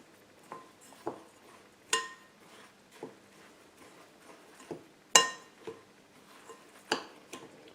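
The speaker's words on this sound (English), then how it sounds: "I'm just going to give that a mix around." Dry cupcake ingredients are mixed in a bowl, giving sparse clinks and taps of utensil against the bowl, quiet and irregular with several sharper knocks.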